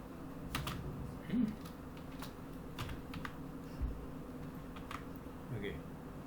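Java code is typed on a computer keyboard in soft, irregular clusters of key clicks, fairly close, with a person talking intermittently over the tapping.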